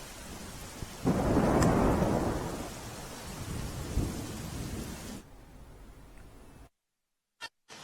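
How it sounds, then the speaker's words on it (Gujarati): Heavy rain in Surat, Gujarat, roars steadily with a deep rumble of thunder, loud at first and easing, then cutting out abruptly to silence with a couple of brief blips. "ખાસ કરીને ધોધમાર વરસાદ વરસી રહ્યો છે"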